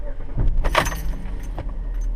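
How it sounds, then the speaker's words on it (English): Keys jangle close by as a car is started, followed by the low, steady hum of the engine settling into idle inside the cabin. "So now all I have to do is start the car"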